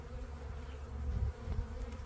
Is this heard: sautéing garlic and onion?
no